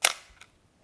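A Pentax ES II camera shutter fires at half a second: a sharp opening click followed about 0.4 seconds later by a softer closing click, close and otherwise silent.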